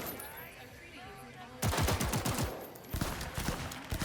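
A shotgun fires in a video game firefight, starting suddenly after a quiet stretch. A dense run of loud, close blasts follows, with a second burst a moment later.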